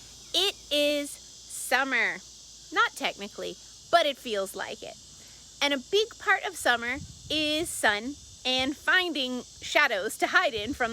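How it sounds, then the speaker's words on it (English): A constant high insect drone, heard as cicadas in a tropical summer setting among palm trees, hangs beneath someone speaking throughout; any bird calls stay faint. "You can hear the birds and the cicadas and see the palm trees behind me."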